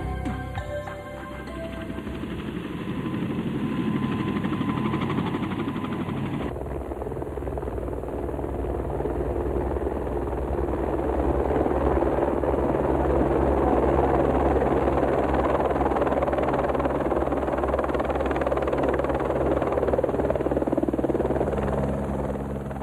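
A helicopter near Mendenhall Glacier in Juneau, Alaska, gives off a steady, loud rotor drone and engine whine that holds for over twenty seconds, thick and continuous, with no speech over it.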